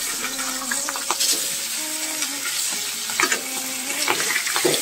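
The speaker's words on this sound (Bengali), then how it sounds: "এখানে মাছ ভাজে বসে দিচ্ছি" Fish fries in a pan in a home kitchen, a continuous close sizzle with scattered pops and light clatter.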